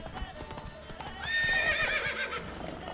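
A horse in The Witcher 3 video game neighs in a loud, shrill whinny midway, with clip-clopping hooves beforehand and a player's voice talking over it.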